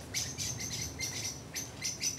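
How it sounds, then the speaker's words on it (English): Birds chirp in a quick, repeated series of short tweets in an English garden in early July, during a squabble among blackbirds. The calls come in fairly faint bursts a little way off, over a soft outdoor hush with no talk. "Oh, a little bit of a fight going on with the blackbirds behind me."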